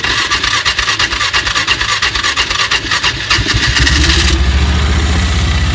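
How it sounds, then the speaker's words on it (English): A small carbureted engine that runs poorly gets a pull-start cranking that sounds like rhythmic rasping, then catches and settles into a loud, rapid, close putter near the end. "I'm gonna go ahead and put some new fuel in this and try to start it."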